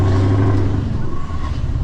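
A Volvo FH low rider truck engine drives with a loud, steady, deep rumble that holds evenly throughout, with no voices over it.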